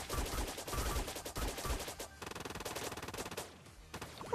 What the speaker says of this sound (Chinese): 就沉浸式听枪声下饭吧